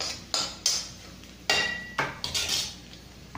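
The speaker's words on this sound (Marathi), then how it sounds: "शेंगदाणे छान परतले गेले" Roasted peanuts are stirred in a pan, giving a run of close, clattering scrapes and knocks of utensil against metal at an uneven pace, set against a faint background crackle.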